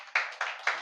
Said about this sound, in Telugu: చప్పట్లు కొట్టండి ప్రభు